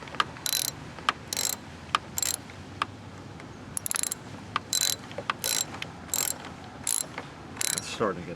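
Ratchet wrench tightening a battery terminal connection on a Toyota car, a series of short sharp clicking bursts in uneven rhythm, close and fairly loud with no talking.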